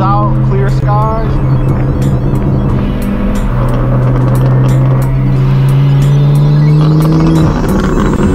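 Straight-piped BMW M4 F82 exhaust rumbling steadily while driving, a loud sustained drone with a rising engine pitch near the end, with people talking over it.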